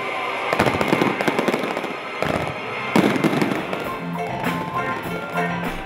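Silver jubilee celebration fireworks, a dense run of crackling bursts and sharp pops, loud and continuous, with a faint tonal hum underneath toward the end.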